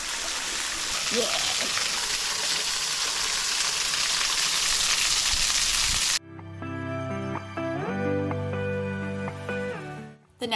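A waterfall near rocks at campsite 52 gives a steady, soft rushing wash for about six seconds before music takes over the rest of the clip.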